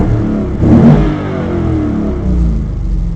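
A C5 Corvette idling around 650–700 RPM through a Z06 titanium midsection exhaust with cats, a deep steady burble with a brief rev swell near the start, loud and close.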